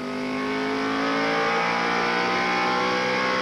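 NASCAR Featherlite Southwest Tour race cars accelerating around Tucson Raceway Park in 1995, a loud sustained engine roar with rising pitch from several cars bunched together, continuous for a few seconds.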